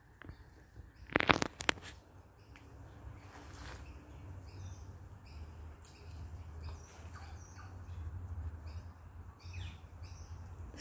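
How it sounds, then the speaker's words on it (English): Birds chirp and call outdoors in Australia near watering holes, faint scattered tweets over a steady low ambient rumble, with a brief louder clatter early on. "Listen to the birds for a minute."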